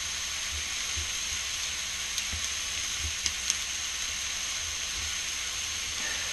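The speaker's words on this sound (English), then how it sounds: "They're going to be searing nicely" Peri Peri rubbed steaks sear in a 10-inch cast iron skillet, giving a steady, close, loud sizzle with a few faint pops and ticks scattered through it.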